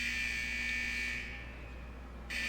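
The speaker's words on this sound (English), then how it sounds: "Those alarms indicate that we're encountering some minor technical difficulties with the fusion press" Alarms sounding at a fusion press in World of Warcraft, heard as a steady electronic buzzing tone with a low hum beneath that cuts out briefly, then resumes.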